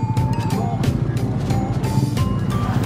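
Steady engine drone and road rumble of a motorcycle carrying a pillion passenger on a ride in Zamboanga del Sur, loud and continuous with wind noise throughout.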